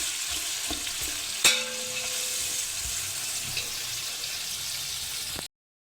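Steady oil sizzle and crackle from spices frying in a pot on the stove until golden brown, close and continuous, with a couple of faint clinks partway through.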